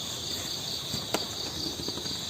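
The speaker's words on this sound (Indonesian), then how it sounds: "Jangkrik" A cricket chirps steadily in a high, continuous trill, close and fairly loud, with a few faint knocks underneath.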